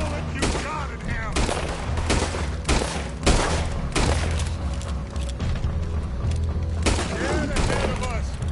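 Repeated loud gunshots and bursts of rapid fire ring out in a Red Dead Redemption 2 chase, with shouting voices mixed among the shots.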